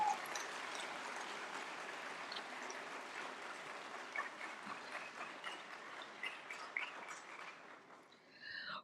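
Audience applause welcoming Dr. Jitendra Singh on stage at a National Science Day event in India: a dense, steady wash of many hands clapping, fairly distant and moderately loud, sustained for about nine seconds with no talk.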